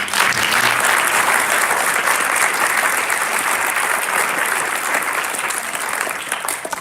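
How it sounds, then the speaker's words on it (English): A room full of people at a school board of education meeting breaks into sustained, dense applause, loud and close, holding steady for several seconds with no talking over it. "So a big round of applause for all of those mentioned."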